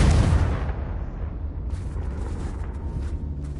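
Confringo spell explosion in Hogwarts Legacy, a loud close fiery blast that fades into a rumbling, crackling tail with scattered debris pops.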